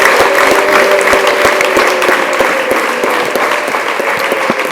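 Congregation in a church service claps loudly and steadily, a dense wash of applause with some sharper individual claps standing out, continuous from start to finish.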